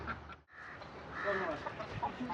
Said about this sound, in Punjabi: ਅਸੀਲ ਮੁਰਗ ਸਾਡੇ ਕੋਲ ਨੱਸ ਗਿਆ